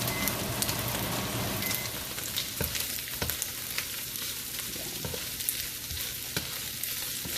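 Steady sizzling and crackling of garlic frying in a hot pan, with a few sharp pops and clinks throughout, no voices.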